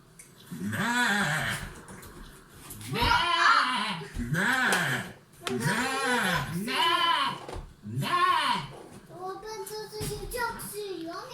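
A lamb bleats repeatedly in loud, wavering cries near the listener at a home, with a voice and other talk around the calls.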